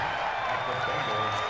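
Crowd noise from a packed football stadium during a Miami Dolphins versus Cincinnati Bengals game, a steady, dense roar that holds evenly through the short stretch.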